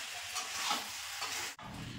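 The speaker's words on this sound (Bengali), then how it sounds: "এভাবে আস্তে আস্তে চিকেনটা কষাতে থাকবো," Chicken being stirred and fried slowly in a pan, a steady close sizzle with scraping stir strokes and a brief pause near the end.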